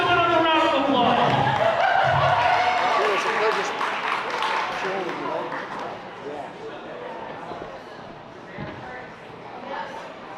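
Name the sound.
audience applause at powerlifting medal ceremony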